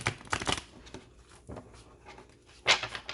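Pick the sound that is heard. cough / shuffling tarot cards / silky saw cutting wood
shuffling tarot cards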